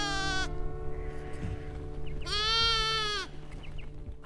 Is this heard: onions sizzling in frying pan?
no